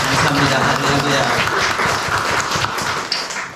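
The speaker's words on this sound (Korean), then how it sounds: "하나님께 다시 영광의 박수를 돌리겠습니다" A church congregation claps together in a dense, steady burst of applause that fills the space, with voices talking and calling out underneath.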